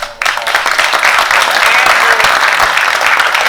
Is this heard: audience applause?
yes